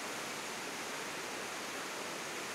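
Powerful waterfall on the Potomac River in the gorge, a steady broadband roar of rushing water with no breaks, fairly distant and even in level throughout.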